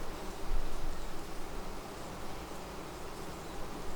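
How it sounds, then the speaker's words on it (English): Honey bees swarm around an open hive during a frame inspection, a dense, soft buzzing hum that stays low and continuous, swelling slightly early on, with no voices. "A lot of bees."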